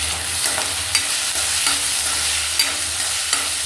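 Two medium chopped tomatoes sizzle steadily in a hot frying pan while a spoon scrapes and stirs them at irregular intervals, loud and close, with no voices.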